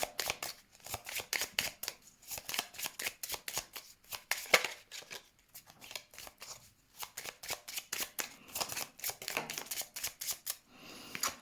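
Tarot cards being shuffled for a reading: rapid repeated riffling bursts, close and crisp, in quick rhythmic runs with brief pauses between them, and no voice.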